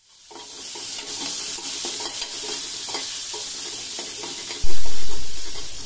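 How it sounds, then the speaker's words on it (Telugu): Curry leaves and dried red chillies crackle and sizzle in hot oil for a tempering, with scraping stirs throughout and a sudden louder burst of spitting near the end. "ఇవన్నీ వేగిన తర్వాత కొద్దిగా కరివేపాకును కూడా వేసుకుని వేపుకోవాలి"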